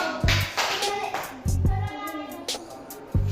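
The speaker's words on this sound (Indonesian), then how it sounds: "Berikan tepuk tangan untuk" Children in a sixth-grade classroom clap their hands in short rhythmic bursts, each a quick cluster of sharp slaps separated by brief pauses, close by and moderately loud, with faint young voices between the claps.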